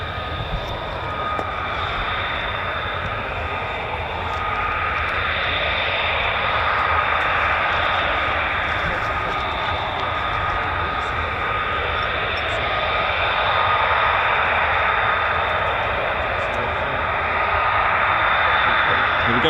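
A two-ship of F-15 fighter jets at RAF Lakenheath, 48th Fighter Wing, roars steadily at close range for the whole stretch, swelling slightly, with a voice talking faintly beneath the engines.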